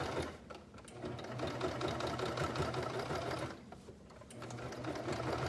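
A cover stitch sewing machine stitching a pair of shorts runs with a steady, close mechanical whir and rapid needle chatter, briefly easing off near the end before picking back up.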